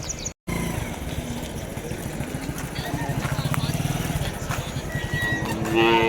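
At the entrance of the Vaniyambadi cattle market, cows low and moo amid crowd chatter and passing motorcycle engines, a busy, continuous outdoor bustle with people talking throughout.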